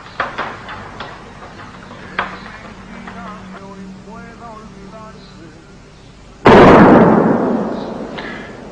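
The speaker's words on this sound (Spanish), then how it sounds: "es el cañonazo a las 12" A single loud noon cannon shot booms out after faint background voices and ticking, then rolls and fades slowly over a few seconds.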